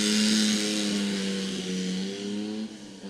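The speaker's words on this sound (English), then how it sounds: "I'd say it's probably a side valve Dodge engine." A 1938 Dodge Special racing car with a side-valve Dodge engine at a revival race meeting, its engine note loud and sustained, holding a steady pitch before easing off slightly as it runs past.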